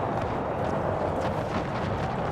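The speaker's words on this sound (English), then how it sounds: "I'll order my cannons to focus in on the 3 last regiments out here." Cannon artillery fire in a Napoleonic-era Empire: Total War battle, a dense rumbling barrage of distant booms blending into continuous roar with no voices.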